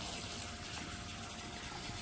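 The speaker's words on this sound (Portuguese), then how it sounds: "vamos colocar depois em seguida um pouco mais de água" Water pouring into a creamy chicken pie sauce, a steady soft gushing stream that stays even and fairly quiet throughout.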